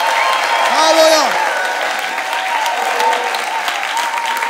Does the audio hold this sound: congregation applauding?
yes